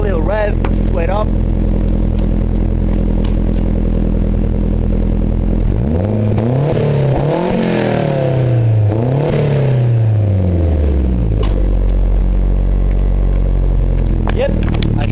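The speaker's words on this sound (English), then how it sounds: "Give it a little rev, sweat up." A 1989 Saab 900 Aero Turbo engine idles steadily, then gets two strong revs that rise and fall in quick succession before settling back to a smooth idle, heard close and loud from behind near the exhaust.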